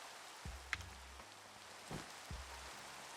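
Steady rain falls in Minecraft on a survival multiplayer server, a soft even patter with a few louder low thuds and a brief chime standing out, and no talking.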